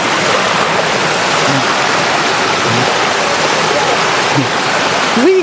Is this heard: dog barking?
no